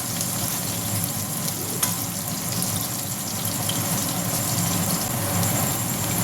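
Potatoes frying in a pan for a vegetarian sabudana pulao, a steady close sizzle and bubbling that runs unbroken throughout with no talk.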